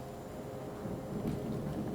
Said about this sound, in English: Over here we've got some thunder sounds